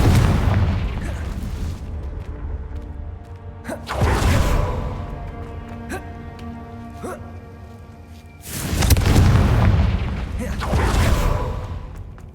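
Confringo fire spell explosions in the video game Hogwarts Legacy, two loud booming blasts with broad rumbling tails about four seconds apart, then a second pair of heavy bursts, mixed with other game sounds.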